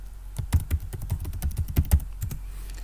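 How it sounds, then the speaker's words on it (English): Someone types a password on a computer keyboard, a close run of irregular, quick key taps with brief pauses between clusters and no talking. "Put in your password that you've set."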